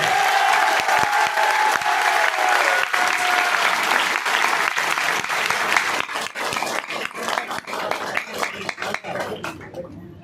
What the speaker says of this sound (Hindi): और जोरदार तालियां बजा लीजिए अपने।